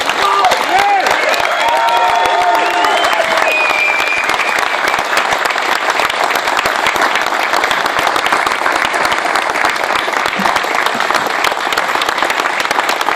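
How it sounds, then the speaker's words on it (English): A large outdoor crowd at a rally for fair pay and working conditions claps steadily and loudly, with scattered cheers and whistles rising over the applause early on. "Let's give him a big round of applause."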